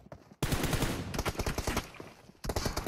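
Gunfire in a video game tournament match, with loud rapid bursts of automatic fire in two clusters, sharp repeated cracks separated by a short lull, no talk over the shots.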